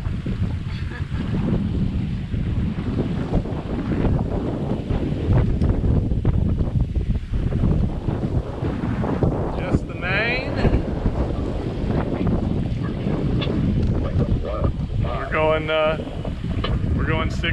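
Sailboat on a broad reach under mainsail alone near Carriacou and Grenada, squall wind buffeting the microphone over steady rushing water and hull noise, loud and continuous throughout.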